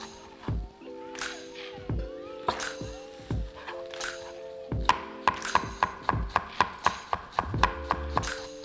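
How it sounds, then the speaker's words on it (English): Fresh parsley chopped with a knife on a board: sparse cuts at first, then a quick steady run of crisp thuds, close and clear, with brief background sounds between strokes. "I'm gonna chop up some fresh parsley here."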